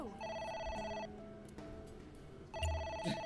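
A phone rings in the video game AI: The Somnium Files, two bursts of bright electronic ringtone trilling with a pause between them, clear and fairly close with a low thump at the end.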